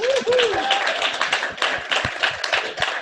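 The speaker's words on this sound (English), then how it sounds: "So yeah, round of applause" Applause and scattered clapping ring out from the audience at the final DerbyCon recording of the BrakeSec podcast, a short burst with voices mixed in and a brief whoop early on.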